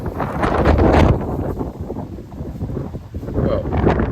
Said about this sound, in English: I hope my bike doesn't fall off because it is very windy